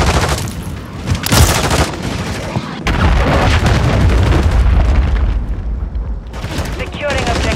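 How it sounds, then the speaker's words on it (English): Cruise missile strikes in Modern Warfare 3 multiplayer on the Shipment map: dense rolling booms and heavy blasts layered with rapid gunfire, loud and chaotic throughout, with game announcer voices cutting in. "Friendly cruise missile deployed."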